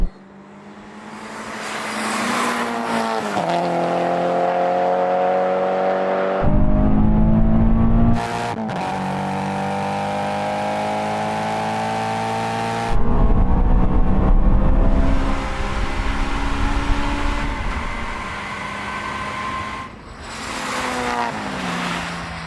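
Honda S2000, supercharged GT86 and MX-5 in a drag race, engines loudly revving and accelerating hard through gear changes with some tyre wheelspin at the launch, several bursts of roaring exhaust over about twenty seconds with no talking.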